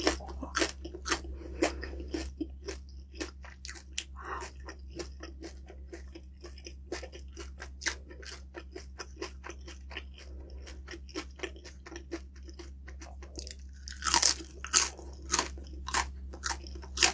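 Crispy skin is crunched and chewed up close, with dense, irregular crackling bites over a steady low hum, growing louder near the end.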